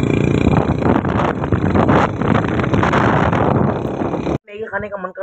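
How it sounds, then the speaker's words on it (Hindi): Strong wind buffeting the microphone in steady loud roaring gusts for about four seconds, then cutting out abruptly as a voice comes through. "इतनी मतलब तेज़ हवा चल रही है कि यार आपने मतलब बात नहीं कर पा रहा हूँ।"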